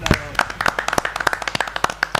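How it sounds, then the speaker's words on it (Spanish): A small group of podcast guests and hosts clap for guests on a Chilean home-brew beer show: quick, close, crisp claps in an uneven, steady patter lasting the whole moment. "Un aplauso por los invitados entonces."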